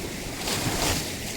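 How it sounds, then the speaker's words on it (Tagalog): Large ocean waves roll in at high tide on a Quezon province shore, a dense continuous wash of surf with wind buffeting the microphone and no talk. "Malalaki po yung mga alon."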